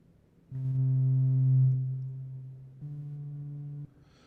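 A steady synthesizer tone from an Empress ZOIA effects pedal patch swells in and holds, then drops to a slightly different sustained pitch before cutting off, rich in harmonics and fairly loud.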